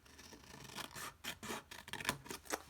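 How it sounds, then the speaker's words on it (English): Scissors cut along a score line in papercraft card for a gift bag, making a few quiet, close snips and rasping slides in irregular bursts. The cutting is soft, with no voices. "I'm going to cut down the score line just here"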